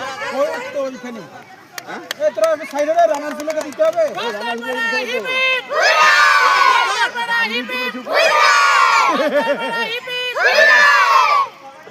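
Crowd at a Champion Trophy 2025 prize ceremony, with someone speaking over a mic and then loud bursts of clapping and cheering, including children shouting, rising in three strong waves.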